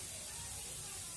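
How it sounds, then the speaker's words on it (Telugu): A pressure cooker on the stove, switched off after four whistles while cooking gurda kapoora, lets out a steady, faint hiss of escaping steam for about a second. "దీని ఆవిరంతా పోయాక మనం మూత తీసి చూద్దాం."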